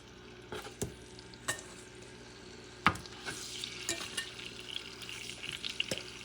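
Turkey necks frying at medium-high heat in Portuguese extra virgin olive oil, a quiet steady sizzle with scattered sharper pops and clicks as pieces are moved in the pan, with no talking.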